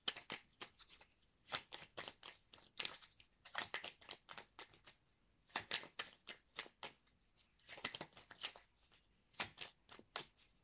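Oracle cards are shuffled in repeated bursts of crisp riffling and flicking, close and soft, with short pauses between rounds and no talking.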